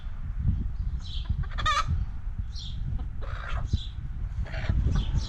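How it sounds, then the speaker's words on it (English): A chicken clucks and pecks while eating a bug, its short clucking calls scattered over a steady low rumble of background noise, fairly close and alone without speech. "Looks like the chicken got a bug."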